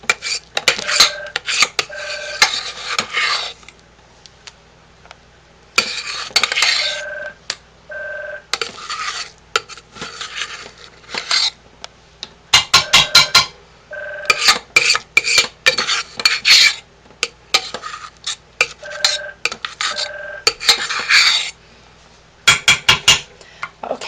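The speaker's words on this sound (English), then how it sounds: "this is what our pot looks like while I'm scraping it out" A metal spoon scrapes out a cooking pot in bursts of harsh, rasping strokes separated by short pauses, with sharp clinks and knocks between the bursts, close and fairly loud.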